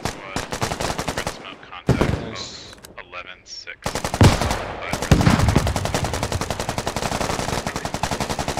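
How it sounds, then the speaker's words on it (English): Anti-tank rockets and rapid gunfire in the military shooter Squad, dense bursts of automatic fire broken by brief gaps and a couple of heavier impacts, loud and continuous. "AT rockets being used to punch holes in sandbags."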